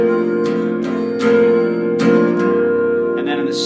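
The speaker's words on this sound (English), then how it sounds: "really relaxed folk type of strum." A relaxed folk-style strum on guitar, all downstrokes, for a song's intro: a few loose, evenly spaced chord strokes ringing warmly at moderate volume.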